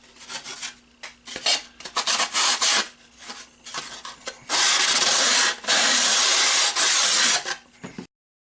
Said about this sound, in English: Remove the caps with a little sandpaper.